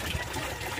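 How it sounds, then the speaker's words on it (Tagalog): Water pours steadily into a drum that serves as a fish pond filter, a continuous rushing gush with no pauses and no voices. "buhos ng tubig"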